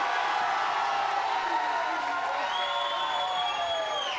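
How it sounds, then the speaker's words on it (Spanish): Studio audience of a Spanish-language telenovela cheering and shouting with scattered applause, a dense continuous roar of many voices with whoops rising over it. "¿Me pueden aplaudir a mí?"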